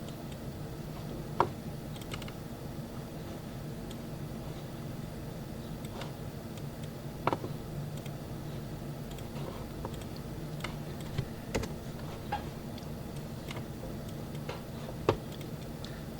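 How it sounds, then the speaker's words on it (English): Sparse clicks of a computer keyboard as code is typed into MATLAB, scattered irregular taps over a low steady background hum, fairly faint and close with long pauses between keystrokes. "So let us write this code in MATLAB."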